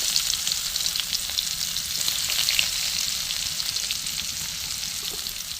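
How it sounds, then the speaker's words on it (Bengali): Garlic fries in hot oil left from frying duck eggs, making a dense, even sizzle that holds steady and close with no talking. "যা তেল আছে এতে আমি রসুন দিয়ে দিলাম।"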